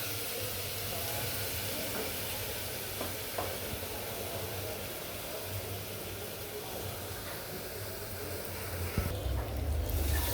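Onions sizzle and fry in a pan as a steady, even hiss, with occasional soft stirring scrapes and a brief clatter near the end.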